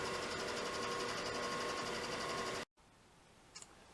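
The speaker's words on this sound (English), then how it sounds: "Take it over to the deburring wheel, deburr it, and it's done." A deburring wheel grinds down a metal part, giving a steady, close, fairly quiet whirring drone that cuts off abruptly, leaving faint background noise.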